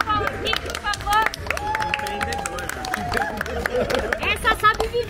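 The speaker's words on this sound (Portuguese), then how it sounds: "Uma salva de palmas aqui, por favor." A group at a dinner during a beach trip in Ubatuba claps in a brief, scattered burst, with lively voices and chatter running over and around the applause.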